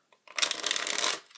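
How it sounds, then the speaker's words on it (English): A deck of playing cards is riffle-shuffled together during a card trick, producing one quick, crisp, close burr of flicking cards lasting about a second. "Probably shuffle them again because that went terrible."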